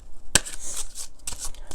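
A tarot card deck is riffled and shuffled by hand, with a sharp burst of crisp flicking followed by several shorter papery shuffles, close up and fairly quiet.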